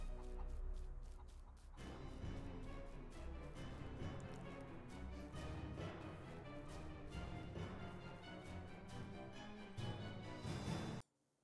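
Chickens cluck steadily in the fantasy game Le Maître du Donjon de Naheulbeuk while eggs are hatched, a busy, dense layer of fowl calls over game music that cuts off abruptly at the end.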